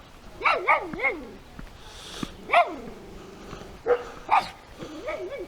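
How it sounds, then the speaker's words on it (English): Dogs barking in a residential neighborhood near Reno, Nevada, a series of close, sharp barks in short bursts with pauses between them. "Let all the dogs bark in the neighborhood for us."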